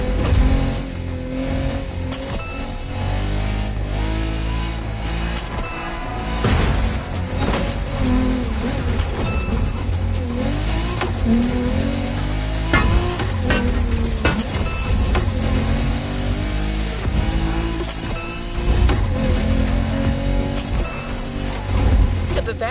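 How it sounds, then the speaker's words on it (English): A BMW Z4 M40i roadster driving, its engine droning steadily and rising and falling in pitch as it accelerates, loud and continuous throughout, with a voice talking over the engine. "We have prepared a classic for you from a very famous German brand, the BMW Z4 M40i."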